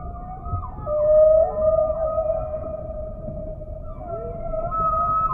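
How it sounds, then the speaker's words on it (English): Humpback whale song recorded underwater: long, wavering tonal moans that rise and slide in pitch over a low rumbling ocean background, with no other sounds. "The whales in different oceans have different songs."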